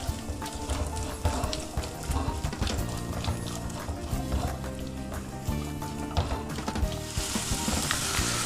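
Potatoes frying in oil in a pan, a dense, busy sizzle with repeated stirring clatter, close and fairly loud throughout.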